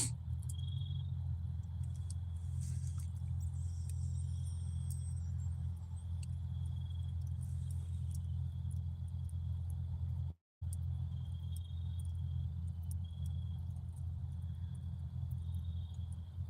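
Crickets chirp outdoors on a cold night, a faint high trill repeating in the background over a low steady rumble like distant traffic, with a brief dropout midway.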